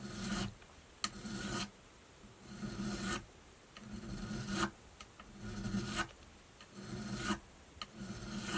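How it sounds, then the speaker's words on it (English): Frets on a Charvel guitar being crowned with a file, heard as close, rhythmic back-and-forth rasping strokes, each roughly half a second long, repeating steadily with short gaps and no voices. "I want to crown it a little bit more to get rid of this small dents that I have in the on the frets"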